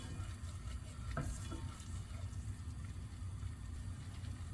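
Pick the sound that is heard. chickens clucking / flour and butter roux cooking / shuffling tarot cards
flour and butter roux cooking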